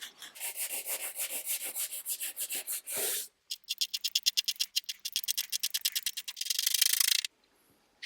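Rhythmic back-and-forth sanding strokes rub over a glued seam in adhesive-backed wood veneer, close and fairly quiet, with a quick flurry near the end before a brief pause.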